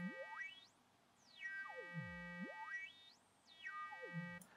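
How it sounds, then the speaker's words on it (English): Native Instruments Massive synth tone with its filter swept repeatedly, producing smooth rising and falling chirp-like sweeps of a bright harmonic tone, several cycles in a row, clean and alone. "I'm now adjusting the high pass."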